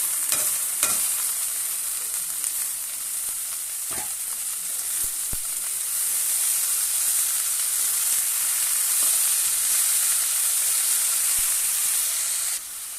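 Boiled radish leaves with onion and green chilli sizzle in a pan, a loud, steady hissing fry lasting throughout, with a few scrape clicks and a sudden drop in level near the end.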